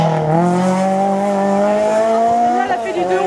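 Citroën Saxo race car, number 177, at the 50th Herenguerville Quettreville hill climb, its engine note climbing steadily through the gears for a few seconds, loud and close, with a brief lift near the end.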